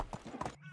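Horse hooves clip-clop in the Medieval Dynasty video game, a quick run of several muffled hoof beats at moderate distance, ending abruptly.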